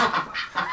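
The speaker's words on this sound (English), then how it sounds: "Oh, we got a goose in here." A goose honks in a winter pen among ducks, three loud nasal calls close by with brief gaps between them, and no talking.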